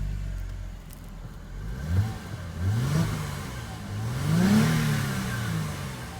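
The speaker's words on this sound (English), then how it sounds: "Our car has started" A Mercedes-Benz C-Class W204 engine idles and then revs in three rising and falling throttle blips, close up and loud with no talk.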